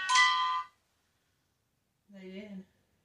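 An EMF meter beeps during a paranormal investigation: a bright, multi-tone electronic chirp at the start, then a pause, then a shorter, softer tonal burst, all fairly close.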